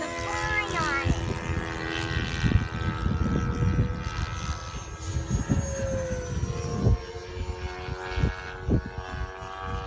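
Stinger 64mm RC jet with a 12-blade inrunner flying on a very windy day, a whining, shifting electric fan tone with wind buffeting, while people talk nearby.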